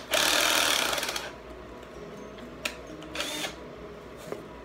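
A power drill with a 3/8 inch bit bores through PVC for a cup rotisserie: one loud, whirring burst of about a second, followed by quiet with a few faint clicks.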